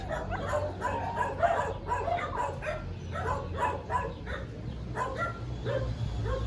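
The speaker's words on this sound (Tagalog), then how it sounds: "Mga aso guys." Several dogs bark, yip and whimper in an excited, overlapping stream, fairly close and persistent, with a steady low hum of background noise underneath.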